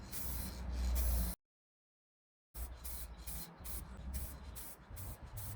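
Aerosol spray paint can laying a light coat on plastic car bump strips, sprayed in a series of short, close hissing bursts with a long pause partway through.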